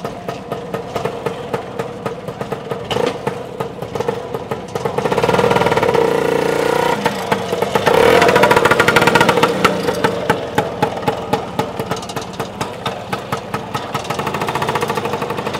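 A line of BSA motorcycles at a road run stop idle together, a dense, steady engine chatter with pulsing exhaust beats and a couple of louder swells as a throttle is opened, outdoors and close.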